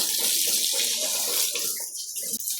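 Cool water sprays steadily onto a dog from a hose, a continuous close hiss of running water that thins briefly near the end before resuming.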